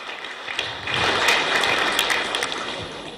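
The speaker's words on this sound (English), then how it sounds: "Let's give the Honorable Minister an applause." A short burst of audience applause for the Honorable Minister of Humanitarian Affairs at a formal live event, dense clapping that builds and stays steady, fairly close and loud.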